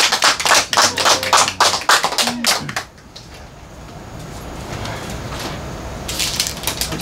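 A church congregation gives a short burst of applause, brisk close claps for about three seconds that stop abruptly and leave a quiet, hissy room.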